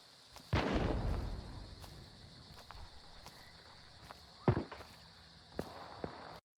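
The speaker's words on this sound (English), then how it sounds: "Sounds like they're shooting something over here" Sharp gunshots in the Hunt: Showdown game: a loud burst early on, then two more isolated reports a few seconds apart, each ringing out over a quiet outdoor ambience.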